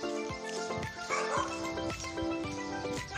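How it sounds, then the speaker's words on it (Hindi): Dogs on a street bark repeatedly in an uneven rhythm of short, close yaps over constant background noise. "यार ये कुत्ते बड़ा तंग कर रहे हैं यार"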